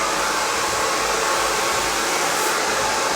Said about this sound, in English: changing the angle of the blow dryer underneath there